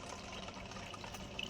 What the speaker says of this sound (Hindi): हम यहाँ पे आए हैं मंदिर ये पानी भरने